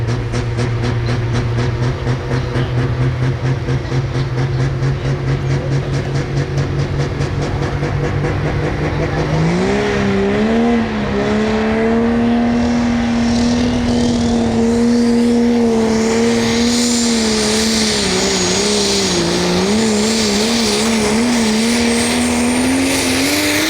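A super stock diesel pulling truck, the Rock Hard Ram, idles with a heavy rumble and then roars under load, its engine note rising and wavering as it drags the sled. Loud and close throughout.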